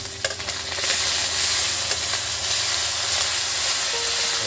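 Chopped tomatoes hit a sizzling pan of cooking spices, a sharp burst of frying crackle settling into a steady loud hiss with faint stirring clinks, no talking.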